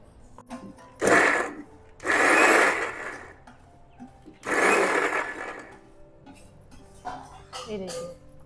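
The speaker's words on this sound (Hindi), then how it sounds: "फिर हम इसको मिक्सी में पीसेंगे।" Three loud bursts of a mixer grinder whirring as it grinds vegetables, each a second or two long, separated by short pauses, with quieter clatter and faint voices between.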